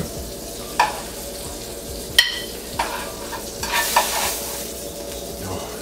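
Breakfast food being stirred in a frying pan while it sizzles, with a continuous hiss broken by several scraping utensil strokes against the pan, close and fairly loud, no voices.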